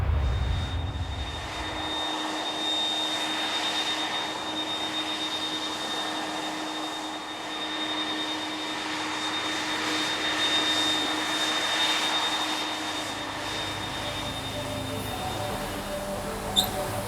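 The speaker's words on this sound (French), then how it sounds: "on a affrété le plus grand avion cargo du monde," Engines of an Airbus Beluga cargo aircraft, the world's largest cargo plane, a steady distant jet roar with a faint high whine running alone and unbroken for about seventeen seconds.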